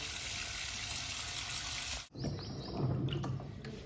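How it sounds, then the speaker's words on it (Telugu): Raw tamarinds are washed in a bucket of water, with a steady gush of running water followed by splashing and sloshing as the pods are rinsed. "చింతకాయల్ని శుభ్రంగా కడగాలండి. 2-3 సార్లు కడగాలి."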